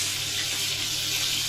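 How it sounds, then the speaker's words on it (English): Steaks sear in a hot frying pan, giving a steady, loud hiss of sizzling fat that runs unbroken and close, with no voices over it. "So you'll see that I added the steaks away from me in the pan. Always add away in a hot pan"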